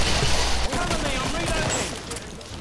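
Shotgun blasts ring out in the video game Killing Floor, loud punchy reports amid a busy clatter of game noise, with players talking over the action.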